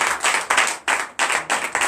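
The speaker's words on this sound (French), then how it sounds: "C'est l'acclamation à sa parole." A church congregation at a Sunday service clapping in short rhythmic bursts, a few quick even rounds of hand claps, close and fairly loud.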